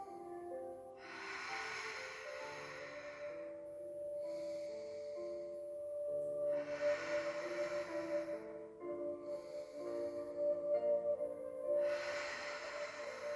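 Slow, deliberate breaths drawn in and pushed out during a pilates exercise, audible as several soft hissing exhales spaced a few seconds apart over quiet background music.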